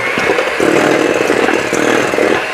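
An electric mixer churning cashew toffee cookie dough, a loud, close motor whir with a rough, slightly fluctuating grind that runs continuously, no talking.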